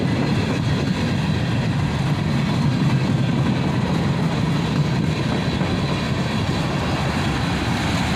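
A freight train passes near a crossing as its end draws closer, a loud, steady rumble of rolling cars and wheels on rails that continues without a break.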